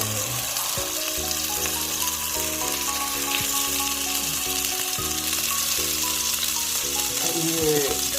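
A steady, loud sizzle of a homemade beef burger patty frying in hot oil, continuous throughout with faint background music-like tones and occasional clinks.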